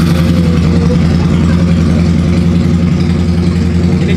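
A 400cc motorcycle engine idles loud and close, a steady low rumble with no talking.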